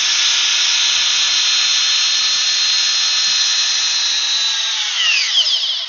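A Porter Cable cordless drill in drill mode at speed one whines at a steady high pitch for several seconds, then winds down quickly as the trigger is released.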